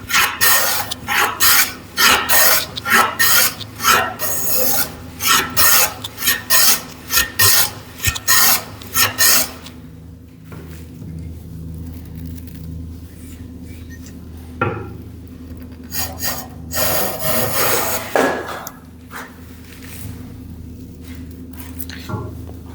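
A hand plane blade is rubbed back and forth on a sharpening stone in rapid rasping strokes for about ten seconds, then stops. Quieter scrapes and handling noises follow.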